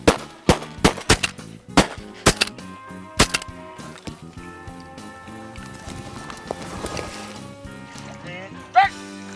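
Shotgun blasts during a duck hunt for pintail, several sharp, loud reports in quick succession early on, followed by quieter field sounds and people talking.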